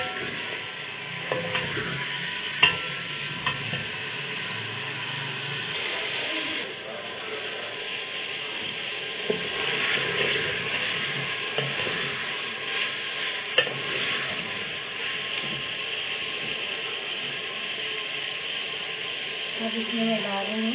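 Half a kilo of chicken sizzles steadily in a karahi for Afghani chicken karahi, with occasional clicks and scrapes of stirring and someone talking over it.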